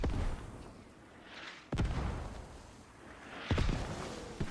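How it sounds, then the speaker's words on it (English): Mortar fire in the military shooter Squad: two heavy impacts land a couple of seconds apart with sharp cracks and deep booms over a rumbling battlefield backdrop. "Those mortars very effective"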